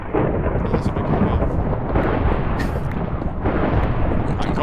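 Thunder from a lightning strike in Minecraft, a loud, sustained rolling rumble with crackling bursts that swell and ease over several seconds, close and heavy.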